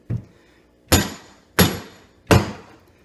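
A rubber hammer strikes a polyurethane bushing being driven into place, giving four sharp, loud blows spaced roughly every three quarters of a second, the first one softer.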